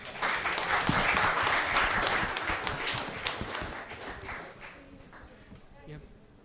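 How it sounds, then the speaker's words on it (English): Audience applause rings out at the grand finale of a competition event, loud at first and gradually fading over several seconds, with voices mixed in. "please, a big round of applause"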